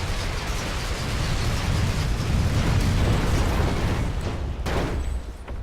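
A Mag Rider hover vehicle blows up in an online shooter game: a loud rumbling explosion blast with debris crackle, followed by a sharper burst near the end.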